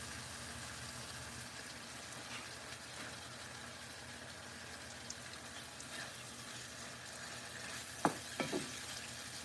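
Onions fry gently in a pan for tacos over lowered heat, a faint, steady low sizzle with a couple of brief clinks near the end.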